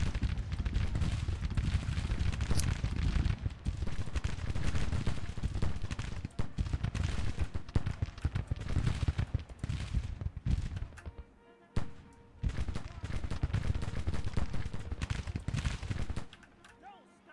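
Musket volleys and artillery fire in Grand Tactician: The Civil War, dense crackling rifle fire and booming cannon rolling continuously, loud and chaotic, with a short lull near the end.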